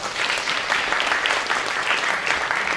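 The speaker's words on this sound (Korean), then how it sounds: "다시 한번 큰 박수 부탁드리겠습니다" Steady, dense applause from a lecture audience welcoming POSTECH president Kim Do-yeon to the stage, sustained evenly and fairly close throughout with no pauses.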